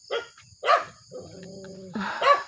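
A dog barks sharply several times on a duck farm during egg collection, short yelping barks separated by pauses, with a faint tonal hum in between.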